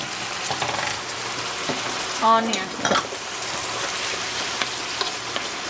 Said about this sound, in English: If we just gonna do the saute, we are not gonna make it brown or something.